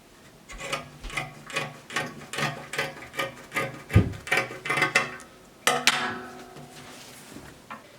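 Scissors cutting dress fabric for an off-shoulder bustier circle dress, a close series of crisp rhythmic snips with a brief pause before a final few cuts.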